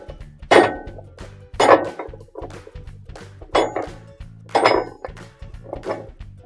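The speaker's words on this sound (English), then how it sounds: "Using a hammer, we're going to make the nut hub become loose by hitting it" A hammer strikes a metal spanner wrench on a washer's drain hub nut, about five sharp clanging hits spaced roughly a second apart, with a faint rhythmic rattle underneath.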